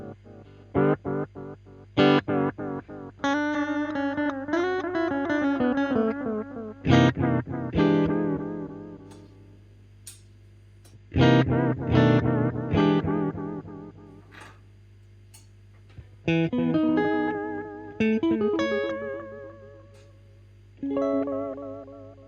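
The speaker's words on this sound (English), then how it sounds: "can do cool things like have only your delay repeats modulated" An electric guitar plays through a Signal Cheyne Sirius pedal set fully wet, so its delay repeats are heavily modulated with a high depth setting. Phrases ring out in swelling, wavering tones and fade into echoing tails between notes.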